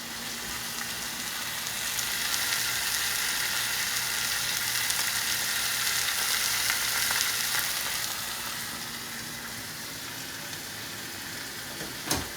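Two large butterfly pork chops searing in a pan, a steady loud hiss and crackle of hot fat that holds evenly throughout, easing slightly near the end before a brief clatter.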